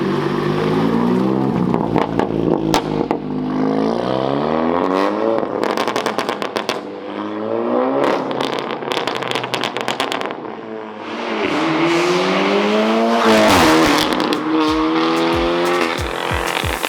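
A loud Audi S3 Saloon with its exhaust valves open drives hard, the engine revving up and down through gears with rising and falling tones, sharp crackles and pops on lift-off, heard close and continuously.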